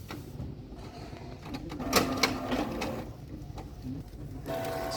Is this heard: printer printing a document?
yes